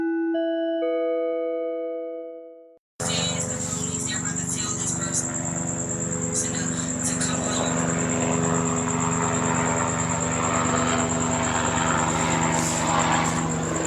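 Commercial planes and helicopters near Ontario International Airport at night: after a brief tonal chime, a steady, loud engine drone with propeller-like hum fills the rest, continuous and unbroken.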